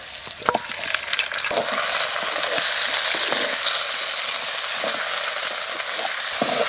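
Country chicken pieces fry with browned onions in a pan, a steady loud sizzle broken by repeated scraping and knocking of a stirring spoon.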